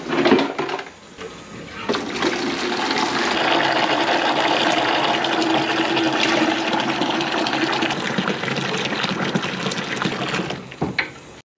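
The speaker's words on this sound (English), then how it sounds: "and then I'm gonna fill up a bucket." Hot water runs hard from a basement tap into a bucket, a loud continuous gushing rush lasting about ten seconds after a brief start, then cutting off, with no talking over it.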